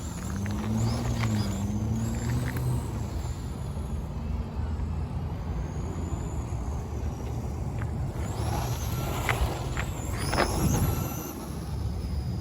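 A 2010 MRP Ripper ST RC stadium truck runs outdoors, its small electric motor whining and rising in pitch as it accelerates, with tire scuffing and bursts around the middle and end, mostly at moderate distance under steady background noise.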